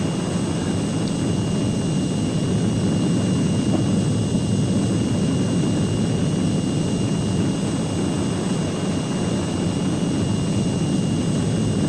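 Steady, loud broadband roar of a Heinkel He 162 jet aircraft in flight while orbiting to the left, heard from on board with a constant engine drone and a thin high whine throughout, no voices.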